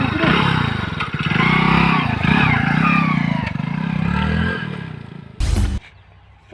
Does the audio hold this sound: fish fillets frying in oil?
no